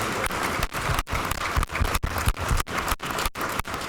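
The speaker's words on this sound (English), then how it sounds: "a warm round of applause for Dr. Brooks Agnew and an incredible presentation" A conference audience applauds after a technology talk, a dense, steady wash of clapping from many hands with small surges and dips throughout, loud and close, with no voices over it.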